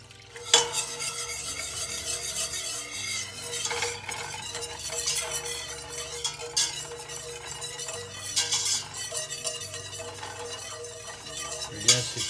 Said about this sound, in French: On brasse constamment pour éviter de faire des grumeaux